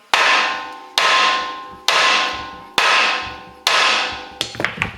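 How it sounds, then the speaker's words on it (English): A big hammer strikes a car's lower control arm five times in a steady rhythm, each loud metallic clang ringing out before the next, with a few lighter clanks at the end. "with a nice big hammer"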